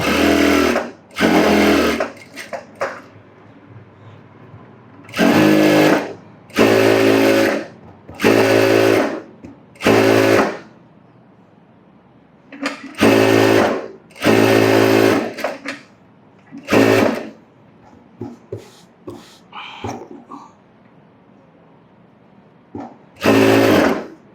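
Sewing machine stitching a blouse in loud, close bursts of rapid whirring, about a dozen runs of varying length separated by quiet pauses.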